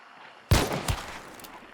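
Two quick gunshots from the video game Hunt: Showdown, a sharp crack followed by a second report about half a second later, fairly faint and decaying into a quiet tail.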